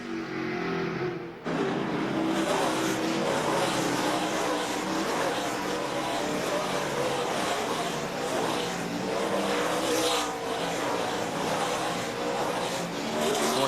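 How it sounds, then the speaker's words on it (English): NASCAR race cars at the 2003 Dodge/Save Mart 350 on fresh tires, engines roaring steadily with wheel spin, loud and continuous for the whole stretch after a brief quieter start. "Hear a lot of wheel spin as we listen to the engines in the cars."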